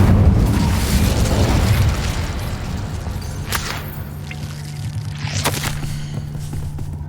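The Incendio fire spell cast in Hogwarts Legacy, a loud whooshing burst of flame at the start that tapers off, followed by a low hum and two sharp crackling pops.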